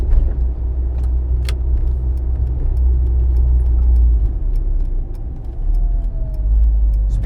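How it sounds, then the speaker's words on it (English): A 1997 Renault Twingo 1.2 rolls over speed bumps, heard from inside as a loud, steady low road and engine rumble with faint rattles and knocks from the cabin and no talking. "Speed bumps are no issue."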